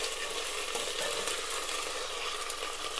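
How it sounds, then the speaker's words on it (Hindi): Ginger and garlic paste sizzles steadily with onions in a hot pan, a continuous bright crackle of frying with soft stirring scrapes, moderately close and without voices. "इसे हम अच्छी तरह से प्याज में अच्छे से भून लेंगे ताकि हमारा लहसुन और अदरक का कच्चापन खत्म हो जाए"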